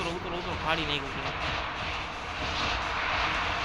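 Airplane engine drone from the Free Fire video game, a steady, fairly loud hum with voices talking over it.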